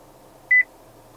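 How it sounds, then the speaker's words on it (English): Touchscreen display in a 2017 Toyota Corolla Altis 1.8 G gives a quick double beep, two short clear electronic tones in rapid succession over a faint cabin hum. "the beep when you touch the display"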